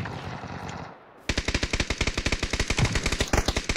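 Automatic gunfire in a video game, a fast steady burst of loud, close shots that starts abruptly after a short quiet gap and carries on to the end, with no voices.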